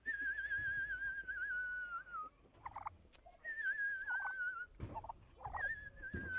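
A person whistles a wavering tune while turkeys answer with bursts of gobbling, the whistles and gobbles alternating close by, in a village in Maramures, Romania.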